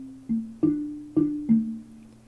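Four deep, mellow bass xylophone notes struck in a short phrase, each ringing briefly before the next, with no talking.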